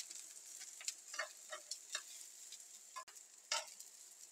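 Peppers and eggplant fry quietly in a pan with grated garlic, giving a faint, steady sizzle broken by scattered soft crackles and stirring scrapes, with no voices.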